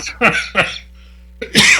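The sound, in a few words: cough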